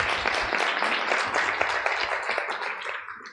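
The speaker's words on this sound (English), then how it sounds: "Round of applause for her." Conference audience at the Africa Evidence Summit in the Hall of Africa applauding a presenter: dense, steady clapping from many hands that fades gently toward the end.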